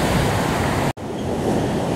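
Ocean waves wash onto Kovalam Beach in Kerala, a loud, broad surf roar mixed with wind buffeting the microphone, briefly cut by a short gap before the rush continues.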